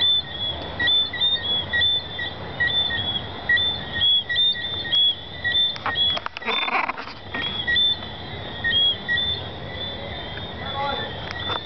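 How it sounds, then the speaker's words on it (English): Jamaican tree frogs calling at night, a dense chorus of repeated high chirps and clicks pulsing steadily over a soft background din, with a brief louder rustle midway. "That noise you're hearing is Jamaican tree frogs singing at night."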